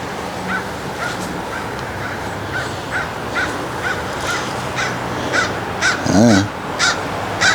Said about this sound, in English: It's kind of eerie, a crow flying overhead while I'm at the graveyard.